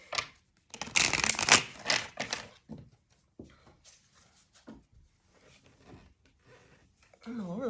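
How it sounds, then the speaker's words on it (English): A deck of cards being shuffled, with bursts of crisp riffling in the opening seconds followed by quieter handling and a voice speaking near the end. "Here, I'll shuffle that one."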